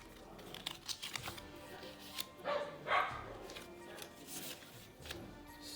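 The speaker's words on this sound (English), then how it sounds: "Sorry if you hear the puppies in the background." Puppies bark and yip faintly in the background in a few short bursts, with light crinkling and handling noises close by.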